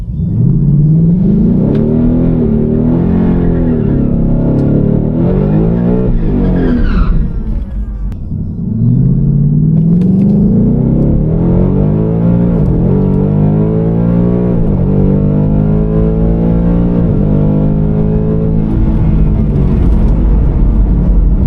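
Ford Coyote V8 car with an FTI Performance converter and 10R80 transmission launching on a drag run, loud engine roaring and climbing through rising gear sweeps, a brief dip at a shift, then pulling hard again, close and dominant.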